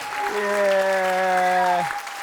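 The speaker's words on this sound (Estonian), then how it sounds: "Suur aplaus ka teise koha meeskonnale." A studio audience at an Estonian comedy quiz show applauds the second-place team while a sustained, tonal voice or sung note rings loudly over the clapping for most of the two seconds.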